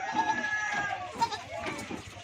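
Goats and kids bleat while being loaded at a goat farm, several overlapping wavering calls of mixed pitch heard at moderate distance, mixed with people talking and general yard noise.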